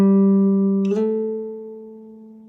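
An electric guitar note picked once, then slid up to a new pitch around the midpoint and left to ring, sustaining steadily and fading slowly with no talk.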